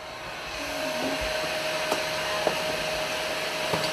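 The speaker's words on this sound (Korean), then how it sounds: "그런데 먼저 드라이어부터 켜놓는다" A steady hair dryer whirs continuously at an even pitch, with a few faint clicks and taps over the constant airflow.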